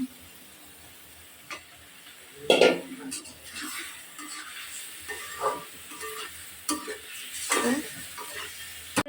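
Fish goes into a hot pan for a Bengali fish curry, bringing sizzling and clattering of a utensil against cookware. Several short bursts of hiss and scraping stand out close over a quiet kitchen background.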